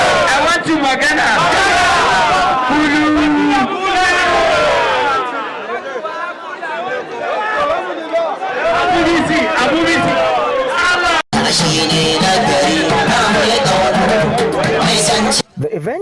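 A dense, loud crowd at a PRP governorship campaign rally in Katsina State chatters and cheers continuously, with singing voices rising out of the hubbub and brief breaks near the end.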